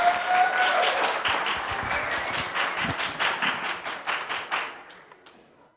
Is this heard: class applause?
yes